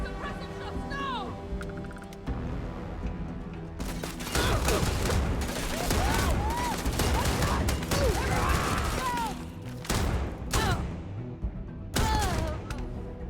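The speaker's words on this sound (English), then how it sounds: "Suppressing shots now!" Heavy gunfire from a weapon in the video game Starfield, sustained bursts of shots that swell loudly mid-clip, broken by short pauses, with layered battle noise and chatter from game characters.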